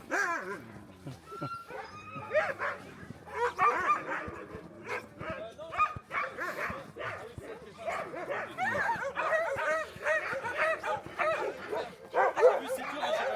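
Sled dogs bark, yip and whimper excitedly in a continuous noisy chorus, close and loud, with people talking in French among them.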